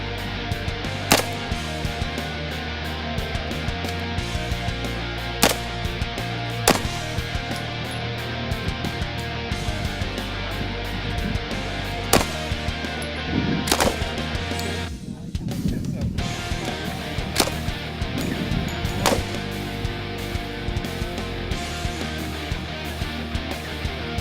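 Gunfire on an FBI shooting range: single sharp shots crack out at irregular intervals over a steady background rumble, with a brief mechanical clatter partway through.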